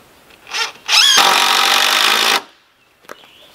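A power drill drives a screw into a wooden ladder post for a DIY satellite tower ladder: a short whir, a rising rev, then a loud, steady grinding burst lasting over a second, ending abruptly, with a faint click afterward.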